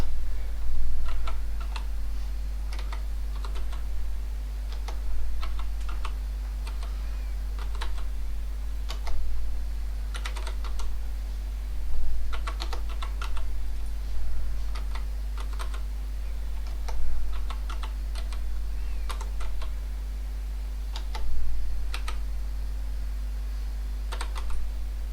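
Continuous typing on a Maltron one-handed keyboard, bursts of close, crisp key clicks in uneven rhythm with short pauses, over a low steady hum.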